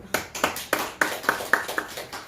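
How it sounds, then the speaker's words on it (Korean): A church congregation claps together in a steady unison rhythm, about eight sharp, evenly spaced claps ringing close and clear in the room, with no talk over them. "박수 한번 칩시다."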